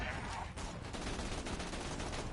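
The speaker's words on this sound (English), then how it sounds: "Explosions." Rapid bursts of explosions or gunfire-like pops at a crowded convention event, dense and continuous over a loud din, with voices faintly mixed in.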